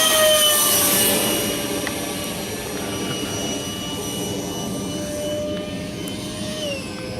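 A Dynam Meteor RC model jet streaks overhead with a steady, loud ducted-fan whine that holds at a high pitch, easing slightly as it passes and starts to come in for landing; no talk over it.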